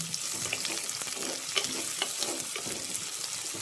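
Sliced medium onion frying in a pan for an Easter fish curry, a close, continuous sizzle crackling with small pops and occasional stirring scrapes, with no voices over it.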